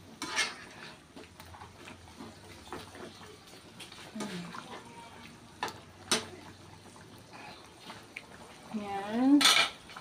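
Pork afritada being stirred in a cooking pot: a spoon scrapes and clinks against the metal at scattered moments over a quiet background, with a brief voice rising near the end.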